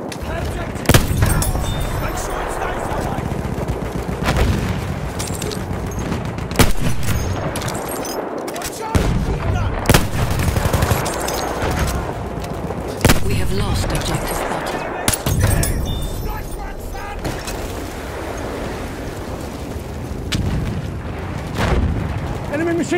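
Machine gun fire in the World War I shooter Battlefield 1 rattles in repeated bursts, mixed with sharp gunshots and heavy booms from nearby and farther off, while voices call out over the battle.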